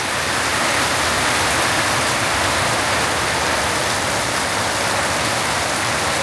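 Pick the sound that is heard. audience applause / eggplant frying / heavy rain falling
heavy rain falling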